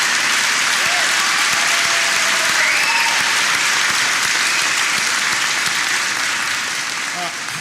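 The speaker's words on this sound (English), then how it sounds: "Please give him a round of applause." A crowd at a community college town hall applauds loudly and continuously, a dense wash of clapping with a few cheers rising above it.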